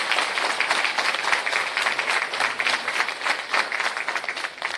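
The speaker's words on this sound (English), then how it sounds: "I beg you another clap, please." An audience at a graduation ceremony for a sexual harassment investigation training course applauds with loud, sustained clapping that stays steady for nearly five seconds.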